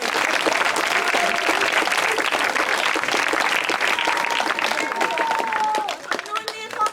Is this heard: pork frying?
no